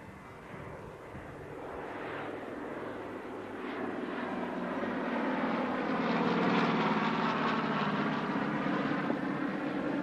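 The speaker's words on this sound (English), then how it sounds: "we've got the beautiful DC-3 or C-47 coming in from the right" A vintage Douglas DC-3 / C-47 piston-engine airliner approaching over an airshow, a broad engine drone that swells gradually as it nears, heard from a distance with no talking.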